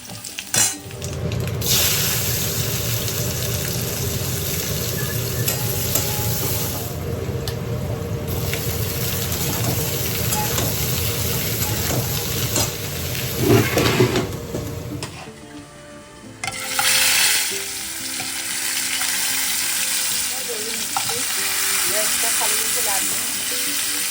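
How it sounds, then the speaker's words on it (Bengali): Potatoes fry in a pan on a home kitchen stove with a steady broadband sizzle and occasional stirring, loud and close, easing briefly near the end before the sizzling resumes. "আলুটা ভেজে তুলে নেবো"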